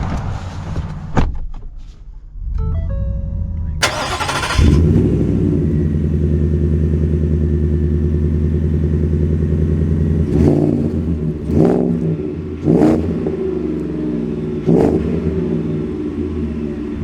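A Shelby F-150 Super Snake pickup truck's engine fires up with a loud burst and settles into a deep, steady rumble, broken by a few sharp clatters and knocks as the truck gets underway.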